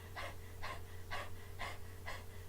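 A person panting rapidly with the tongue out in imitation of a dog, five quick, breathy huffs at a steady rhythm over a low electrical hum, fairly quiet and close.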